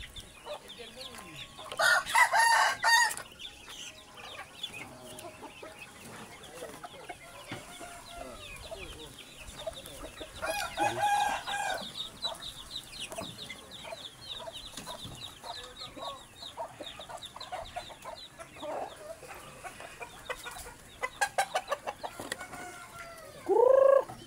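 Pet ducks and nearby poultry call at feeding time, with scattered quacks and clucks, a few loud bursts of calling and a crowing rooster heard among them, plus faint background voices.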